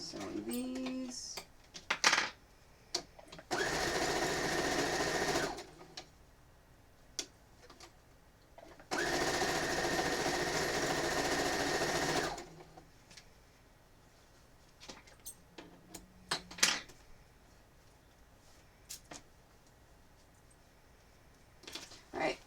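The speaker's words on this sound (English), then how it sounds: "Go ahead and finish sewing these." A sewing machine stitches quilt pieces in two sustained bursts of rapid whirring, each several seconds long, between quieter stretches of small clicks and handling noises in a quiet room.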